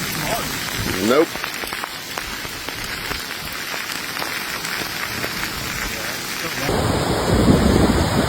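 Heavy rain pours steadily during a flood in Boerne, Texas, with a dense continuous hiss of rain on surfaces, a rumble of thunder early on, and a rougher, louder wash near the end.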